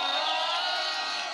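A rally crowd in Nyandarua applauds and cheers, a steady wash of clapping and shouting that holds at an even level throughout, dense and somewhat distant, with no single clear voice.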